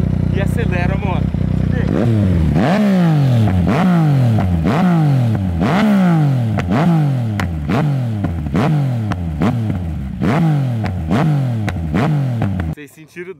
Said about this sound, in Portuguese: Mas olha ali na saída do escape, na hora que eu pego e acelero a moto.